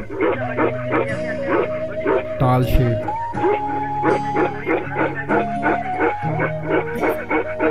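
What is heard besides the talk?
dog barking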